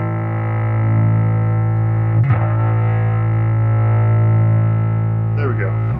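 Heavy distorted electric guitar through an Ashdown Geezer Butler Pedal of Doom with reshaped EQ, a thick sustained chord ringing steadily, re-struck once partway and picked again near the end.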